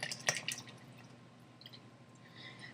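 Eggs, oil, milk and vanilla extract poured into a mixing bowl of chocolate cake batter, heard as soft, faint dripping and liquid splashes that are strongest near the start and then thin out, with no talking.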